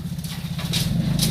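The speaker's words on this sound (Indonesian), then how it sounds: "ini mesin potong rumput ya, mesin pencacah" A grass-cutting chopper machine's engine runs steadily and close by, a low throbbing hum with a few brief higher rattles over it, and no voices.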